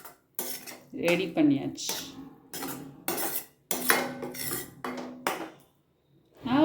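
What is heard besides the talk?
stirring paneer bhurji with coriander in a pan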